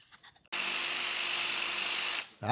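A Rotopower pressure washer driven by a cordless drill whines at a high, steady pitch for about two seconds after a few faint clicks, then cuts off and winds down.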